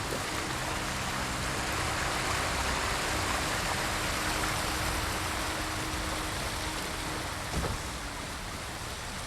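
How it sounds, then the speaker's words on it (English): Steady, full broadband rush of water from a waterfall in the video game Ghost of Tsushima, a constant roar that holds loud and even throughout with a faint tonal hum beneath and no talk. "Oh no, that's a waterfall."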